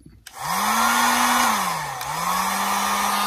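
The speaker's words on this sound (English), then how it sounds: "Get the drying blower out." A drying blower, run on low to dry paint over a hot wax carving, starts after a brief silence and gives a steady, loud whirring whine whose pitch dips and then recovers.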